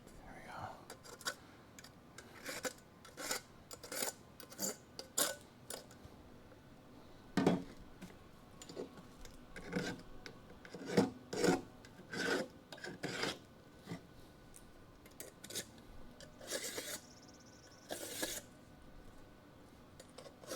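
Hand deburring of a metal part during a Dodge Charger crew cab restoration: a quiet rasping file scrapes in short, repeated strokes with brief pauses between them, the rhythm uneven over about twenty seconds.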